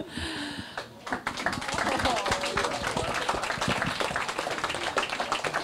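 An audience at an entrepreneur social event claps: dense, steady applause of many hands that begins after a moment of talk and continues to the end, fairly distant in a room.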